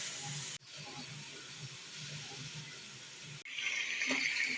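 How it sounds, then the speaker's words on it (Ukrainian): Meat for bograch sizzling in hot fat in a pan, a steady close hiss with a low crackle, briefly cut off twice before resuming louder. "Поки смажиться м'ясо"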